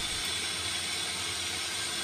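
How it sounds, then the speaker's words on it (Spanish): A blender whirs steadily and loudly, blending toasted garlic and onion skins into a hissy, even roar with no talking. "Ahora la llevamos a la licuadora."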